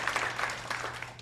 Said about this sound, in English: I'd like for you to give yourselves a round of applause.